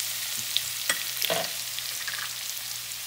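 Paste of ginger, garlic, green chili and dried coconut frying in a pan, a steady close sizzle with a few light stirring scrapes and no talk.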